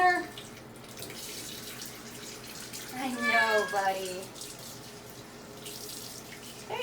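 Tap water runs steadily into a sink or tub while a cat with ringworm is bathed, a constant close hiss of flowing water beneath a person speaking softly to the animal.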